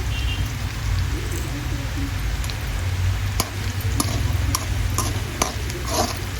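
Garlic and chillies frying in oil in a pan for a peanut tempering, a steady sizzle with scattered pops and crackles over a low background rumble.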